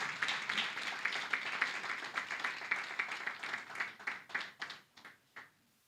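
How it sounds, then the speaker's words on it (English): Audience applause welcoming someone speaker at a mental health conference, steady dense clapping filling the room for several seconds before thinning into scattered individual claps and fading out. "Can we please welcome her with a resounding applause, please?"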